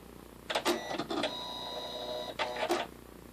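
A Janome Skyline S7 sewing machine powers up with a short burst of mechanical clicks, then a steady electronic hum and whir. It ends with another brief flurry of clatter, close and fairly loud, with no talking.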